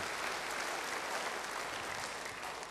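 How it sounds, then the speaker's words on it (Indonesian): Audience applause fills the whole stretch: dense, steady clapping from many hands, loud and even, with no voices standing out. "Beri tepuk tangan yang baik buat dia"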